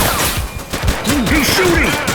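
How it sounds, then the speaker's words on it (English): Gunfire in The Precinct, a police action game: a few sharp shots crack amid a busy mix of game effects and siren-like sweeps, under radio-style voices, over about two seconds. "He's shooting!"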